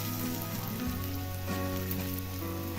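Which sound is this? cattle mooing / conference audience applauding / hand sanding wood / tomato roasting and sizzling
tomato roasting and sizzling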